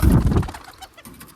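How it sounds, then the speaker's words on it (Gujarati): A short, low, throaty pigeon coo close by, fading quickly. "જો આ એક કબૂતર આવ્યું"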